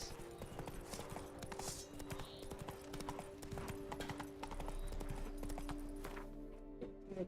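A horse clip-clops steadily in The Witcher 3: Blood and Wine video game, its hooves thudding in a brisk trotting rhythm, and then the hoofbeats fade out toward the end.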